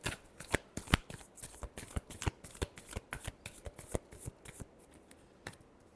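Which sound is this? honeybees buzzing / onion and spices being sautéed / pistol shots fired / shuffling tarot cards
shuffling tarot cards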